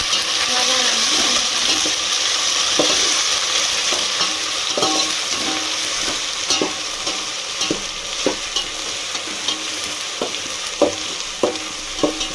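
Ginger paste and browned onions sizzle steadily in a hot pan, a loud continuous fry with scattered crackles and occasional stirring scrapes throughout, no talking.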